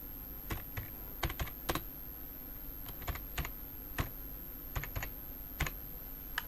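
Typing on a computer keyboard while working in Adobe Illustrator, with crisp, irregular key clicks in short bursts close to the microphone over a faint steady hum.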